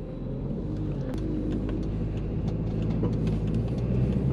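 A turbocharged car pulling away in first gear under load, a loud steady engine rumble that builds gradually from close by, with no voices.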